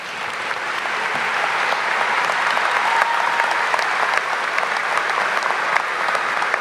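Sustained audience applause at a high school commencement ceremony, dense and steady for several seconds, honoring graduating students in a large venue.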